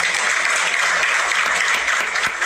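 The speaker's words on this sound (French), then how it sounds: "Ça s'applaudit." Steady, dense applause from a crowd celebrating the World Cup trophy's visit to Côte d'Ivoire, loud and continuous throughout with no pauses.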